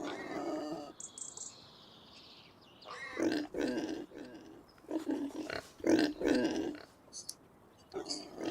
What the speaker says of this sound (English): We got some new pigs right here.